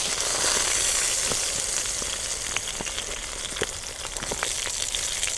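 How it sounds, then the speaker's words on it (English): Beef sausage sizzles and spits in hot oil inside a Dutch oven, a loud, continuous crackling fry with scattered sharp pops throughout and no talking. "Right now, I'm throwing in some beef sausage into my Dutch oven."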